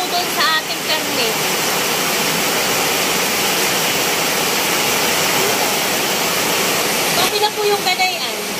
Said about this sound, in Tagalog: Paglalagay po natin ang tubig ay dapat po ay level po doon sa ating karne.